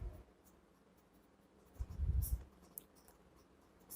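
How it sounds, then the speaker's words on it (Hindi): Marker or chalk strokes on a classroom board during a Class 6 maths lesson on ratio and proportion, quiet, with a short burst of scratchy writing near the middle and otherwise faint room noise, no voices. "तो हम सीधे वो लाइन लिखेंगे"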